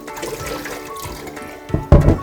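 Wild chives (dallae) soaked in a bowl of water are lifted out: soft sloshing gives way to a sudden loud splash and dripping near the end, with no speech.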